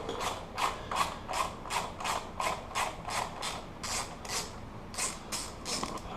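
Ratchet with a 10mm socket backing out seat cover bolts on a 2013 KLR 650 gen2 motorcycle, a steady run of close, crisp clicking strokes with brief pauses between bursts, no talking.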